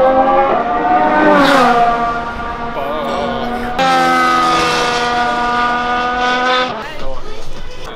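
Formula 1 cars at the US Grand Prix accelerating at full throttle, loud high-pitched engine wails rising through the gears, one car passing close then another building up, with crowd voices faintly underneath.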